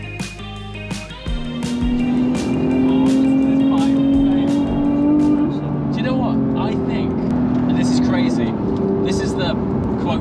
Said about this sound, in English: First drive of this car on the channel since we had it sprayed and since we had the JCR exhaust on it.